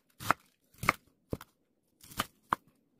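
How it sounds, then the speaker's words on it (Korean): Washed cabbage shredded with a knife: five crisp cutting strokes come in short bursts, then a few single chops, each followed by near silence. "양배추를 씻어서 채 썰어주세요"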